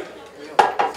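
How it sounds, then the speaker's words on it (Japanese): Plates of school-lunch shumai clink and clatter as dishes are picked up and passed around a table, with two or three sharp close knocks after a quiet start. "これから一個ずつ取ってこのお皿回していくんで"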